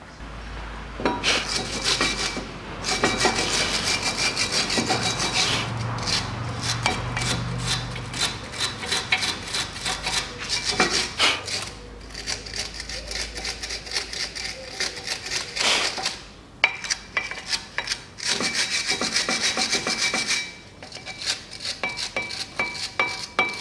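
Brake pad clips from the front brakes of a 2014 Nissan X-Trail being scrubbed clean, close-up rasping and scraping in repeated bursts with brief pauses, sounding dry and metallic.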